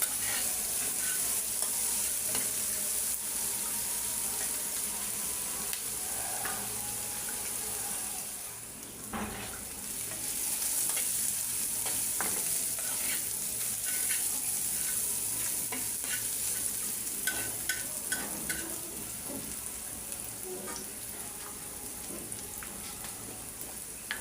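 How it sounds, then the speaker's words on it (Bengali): Onions frying in a pan with salt for an egg curry, a steady sizzle under repeated scraping and stirring strokes, close and continuous with a short pause partway through. "পেঁয়াজ অনেক সুন্দর করে ভাজা হয়ে গেছে।"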